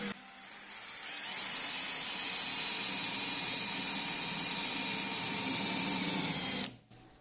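A steady, high-pitched whine of an electric drill boring continuously for several seconds, close up, then stopping abruptly.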